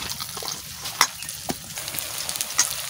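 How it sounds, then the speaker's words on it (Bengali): Potato peel mixture being stirred in a frying pan with one hand, a steady sizzle broken by a few sharp scrapes and clinks of the spatula against the pan, with no talking. "নাড়াটা শুনো তো ওই এক হাত দিয়ে"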